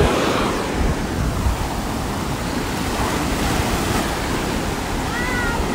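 Ocean waves washing onto the sand at Patara beach, a continuous broad rushing surf close by with light wind, no voices.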